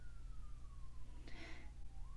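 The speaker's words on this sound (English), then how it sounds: "there's a siren" A faint, distant siren wails, its pitch sliding slowly down and then rising again, with a brief burst of noise partway through.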